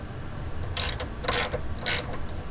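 A socket wrench ratchets in three short bursts of clicking while tightening the rear toe link bolts on a Lexus SC300/SC400, close and crisp over a low background hum.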